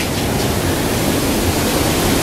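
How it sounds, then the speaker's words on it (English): Eagle Creek waterfall in Oregon, heard from behind the falling water, gives a steady, dense, hissing roar with no breaks, close and enveloping. "We are behind the waterfalls right there."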